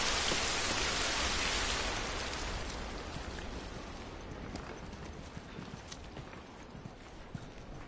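Steady hiss of rain falls in The Last of Us, loud at first and then softening to a quieter patter as the rain is left behind, with scattered small drop impacts.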